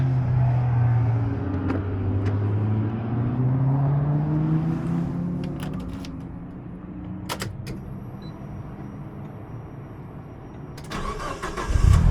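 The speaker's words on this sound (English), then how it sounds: "We're gonna start up the Evo, letting it warm up pretty quick" A Mitsubishi Evo V engine cranks and catches, then settles into a steady low idle with a rising rev, heard up close with no talking.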